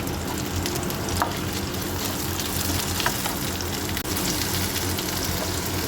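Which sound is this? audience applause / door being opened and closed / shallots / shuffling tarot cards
shallots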